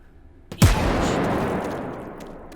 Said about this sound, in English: let's take our newly refreshed impact grenade and